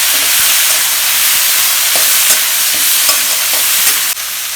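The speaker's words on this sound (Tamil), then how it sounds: "தக்காளி ஒரு 4 தக்காளி கட் பண்ணி வச்சுருக்கேன்ப்பா, அதையும் போட்டுக்கோங்க. போட்டு நல்லா வணக்கலாம்." Chopped tomatoes frying and being stirred in a pan for village-style crab curry, a steady close sizzle with repeated scraping stir strokes and no talk.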